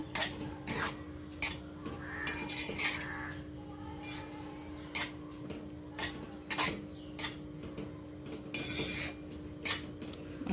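Flour roasts in ghee in a pan for fenugreek ladoos, heard as repeated metal spoon scrapes and clinks against the pan, close and irregular.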